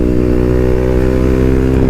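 A KTM Duke motorcycle runs in fourth gear, its engine a loud, steady, close-up drone that holds an even pitch throughout without clear revving.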